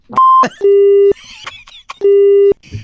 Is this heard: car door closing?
no